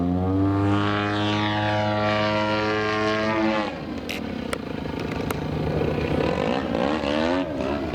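A Harrier jet lifts off in a flight simulator game. The engine tone rises and sweeps upward, then gives way to a rougher, louder roar broken by a few sharp clicks, with no talk over it.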